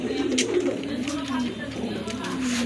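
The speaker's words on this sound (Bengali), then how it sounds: "মাশাআল্লাহ এক জোড়া ম্যাকপাই কবুতর আছে এখানে, খুবই চমৎকার রেড কালারের ভিতরে, সম্পূর্ণ রানিং কবুতর" A pair of red magpie pigeons cooing at a pigeon market, repeated low coos running continuously alongside nearby chatter and crowd noise.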